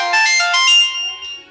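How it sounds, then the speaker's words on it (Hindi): A mobile phone plays a bright melodic ringtone, close and clear, a short chiming tune of under two seconds with no voices over it. "ई मोबाइल टुन टुन टुन टुन करिलो छै"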